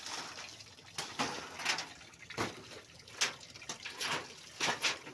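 Water poured in short splashing bursts, several separate pours and trickles at close range, fairly quiet, with no talking.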